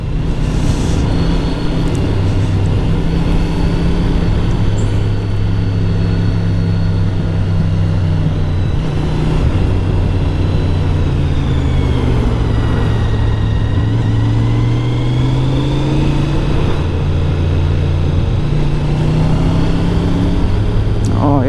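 A car speeding along the Albis Pass mountain road in Switzerland, its engine droning loudly and continuously with shifting pitch as it passes close by, heard from a rider's position amid steady wind and road noise.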